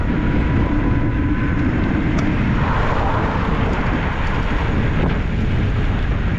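Strong wind roars and buffets the microphone in a loud, continuous low rush while cycling, with some faint traffic-like rumble mixed in.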